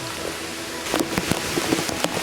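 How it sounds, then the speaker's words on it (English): Rain falling on an Adirondacks hiking trail, a steady hiss with scattered louder drops pattering close by, no talking. "And now it's raining."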